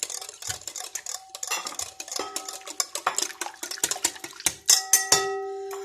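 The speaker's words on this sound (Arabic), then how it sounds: "نخلط كامل المكونات هادو كامل" Brioche dough ingredients, including room-temperature eggs, being mixed by hand, giving a steady run of close clinks and taps of a utensil against a bowl, with a few ringing metallic tones near the end.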